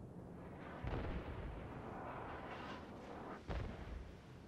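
Ship guns from the destroyer Ibuki fire in a World of Warships naval battle, two deep booming salvos about three seconds apart over a steady low rumble of game ambience.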